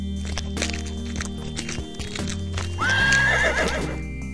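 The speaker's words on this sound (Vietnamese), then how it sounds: "Có tiếng ngựa cậu ơi." Cartoon horse whinnies loudly over a steady clip-clop of hooves, the neigh rising and trembling near the end of the steps.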